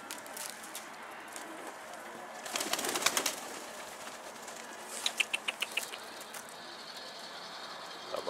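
Pet pigeons in a coop give soft coos and scattered bursts of movement and wing flutter, with a louder flurry around the middle and several quick close clicks or flaps later, over steady low background noise and no talk.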